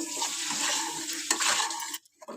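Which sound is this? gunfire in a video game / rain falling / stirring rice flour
stirring rice flour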